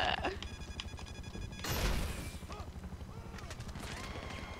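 Video game gunfire from a helicopter, a rapid string of shots followed by a loud crashing burst that fades into quieter rattling, played faintly under a sparse game soundscape.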